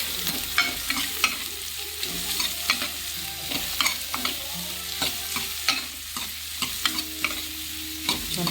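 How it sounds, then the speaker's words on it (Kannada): Onions frying in oil with browned garlic for tomato sambar, a steady sizzle punctuated by regular scraping stirs of a spoon in the pan, close and moderately quiet, with no talk. "ಈರುಳ್ಳಿನೂ ಸ್ವಲ್ಪ ಬ್ರೌನ್ ಕಲರ್ ಆಗೋ ತನಕನಾದರೂ ಫ್ರೈ ಮಾಡ್ಕೋಬೇಕು."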